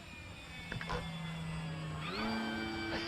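The engine of an FMS Pitts 1400mm V2 RC model biplane drones steadily as the plane makes a low pass nearby, its pitch rising partway through the fly-by.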